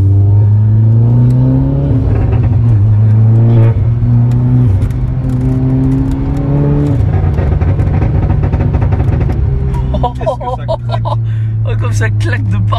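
Audi S1 quattro with a stage 2 tune making 370 hp, its engine revving hard through gear changes with sharp crackles and pops, loud and close throughout, with people talking over it.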